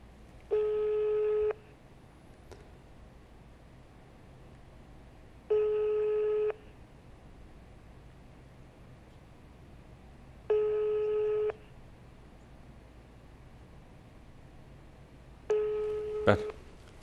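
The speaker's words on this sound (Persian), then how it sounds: "تلفن داره زنگ میزنه." A telephone ringback tone sounds during an outgoing call: four clear one-second electronic tones spaced about five seconds apart, with a faint hiss between them and a slight clatter at the end.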